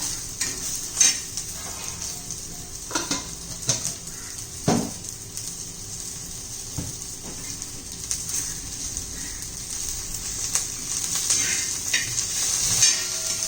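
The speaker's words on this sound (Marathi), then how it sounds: "तिथं थोडं जिरं घालायचं एक चमचाभर ते चांगलं परतून घ्यायचे आपल्याला" Cumin seeds fry in oil beside green chillies in a pan, a low steady sizzle under scattered clinks and scrapes of a utensil against the pan, with one sharper knock partway through.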